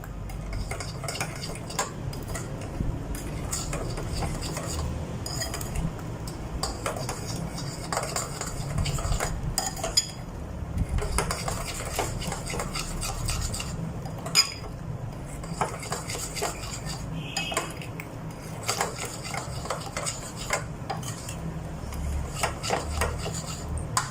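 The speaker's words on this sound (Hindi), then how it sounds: "अब मैं इसमें 1 टेबल स्पून चीनी का डाल रही हूँ भरकर और इसे अच्छी तरह मिक्स कर दूँगी।" A spoon stirs ripe mango with sugar in a pot, with steady scraping and clinking of metal against the pot and soft rubbing sounds continuing throughout at close range.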